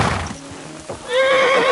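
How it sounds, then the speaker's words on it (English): A horse in the medieval RPG Kingdom Come: Deliverance 2 gives a loud, rising whinny in the final half second, after a short stretch of quieter ambience with a faint thud of hooves. "Get that horse under control."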